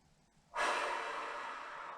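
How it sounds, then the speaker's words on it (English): One long, deep breath taken during a full-body activation warm-up, starting abruptly after a brief quiet moment and holding as a steady, close, airy rush that fades slightly toward the end, with no talking. "Nice big deep breath."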